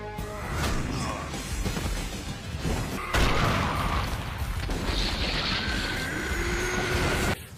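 Nuclear explosion attack in an anime fight scene: heavy rumbling booms and crashing impacts with metallic screeching tones, loud and sustained, with a sudden harsh surge midway before cutting off.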